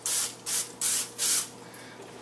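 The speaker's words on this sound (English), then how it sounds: "you take your vegetable cooking spray and you just lightly hit them" Vegetable cooking spray hisses in four short, steady bursts onto breaded buffalo wings, close and fairly loud, with a clatter at the end.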